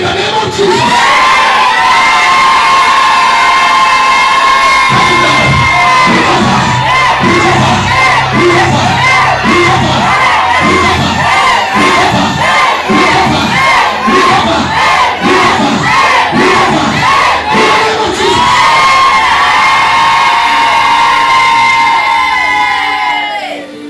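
A church congregation at a revival service shouts together loudly and repeatedly, the crowd's rhythmic roar rising in pulses over sustained music and a preacher's amplified voice, then swelling into a continuous shout.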